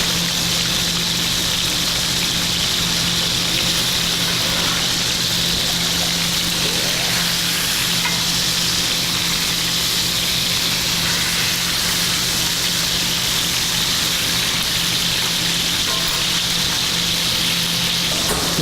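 Food sears in hot oil in a pan, a steady broad hiss of sizzling running throughout under a constant low hum, loud and even with no talking.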